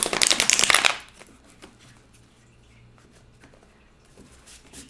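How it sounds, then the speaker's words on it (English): Tarot cards being shuffled in a quick, crisp riffling burst for about a second, followed by near silence with faint soft handling sounds. "I cannot shuffle for the life of me right now."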